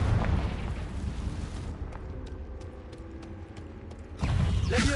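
A Confringo blasting curse detonates in a wizard video game: a heavy rumbling boom with crackling debris that fades into a quieter rattling tail, then a second burst of noise surges near the end.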